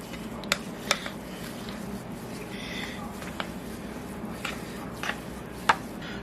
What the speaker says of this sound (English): now we're going to stir this very well together